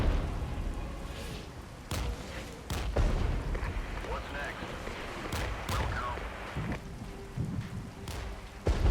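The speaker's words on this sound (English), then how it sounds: "The artillery hitting there is really annoying." Artillery shells strike in repeated heavy thuds amid a constant rumbling wash of battle noise in the wargame Regiments, the impacts landing at irregular intervals, fairly distant and muffled.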